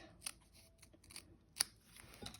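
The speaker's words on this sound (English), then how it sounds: "Then you're going to trim the bottom of this tree off." Scissors trimming the bottom off a decorative paper tree: several quiet, crisp snips in an irregular rhythm, close up, with one sharper cut standing out.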